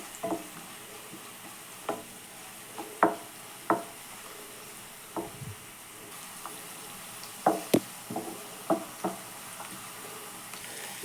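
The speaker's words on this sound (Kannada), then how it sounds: "ಈರುಳ್ಳಿ ಸೇರಿಸ್ಕೊತಿದ್ದೀನಿ ನಾನು ಈರುಳ್ಳಿ ಚೆನ್ನಾಗಿ ಮೆತ್ತಗಾಗೋವರೆಗೂ ಫ್ರೈ ಮಾಡ್ಕೊಳ್ಳೋಣ" Onions frying in hot oil in a pan give a faint, low hiss under scattered light taps and clicks from stirring, spread unevenly over several seconds with no voices.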